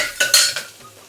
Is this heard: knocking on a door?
no